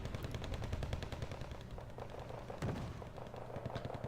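Tank cannon shots from a T-80 and other armored vehicles in a tank video game tournament match, heard as dense, continuous booming gunfire with one sharper blast near the middle and no voices.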